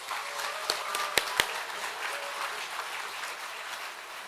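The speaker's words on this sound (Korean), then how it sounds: "뜨거운 박수 부탁드립니다." A church congregation applauds with dense, steady clapping throughout, a few sharp louder claps standing out near the start.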